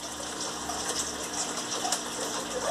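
An Electrolux LM08 Turbo Limpeza 8 kg washing machine fills with water for the rinse, a steady loud gushing rush of water running throughout.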